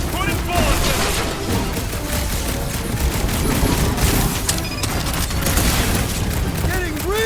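Rapid gunfire rattles through a Guardians of the Galaxy battle, dense and loud and continuous, mixed with booms, game effects and a shouting voice.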